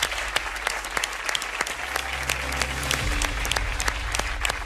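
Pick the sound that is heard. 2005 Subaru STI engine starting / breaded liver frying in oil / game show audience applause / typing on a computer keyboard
game show audience applause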